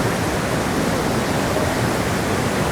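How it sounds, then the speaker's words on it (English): Vernal Falls in Yosemite National Park pours down in a loud, continuous rush of water, a dense, unbroken roar close by with no voices over it. "And the amount of water coming down"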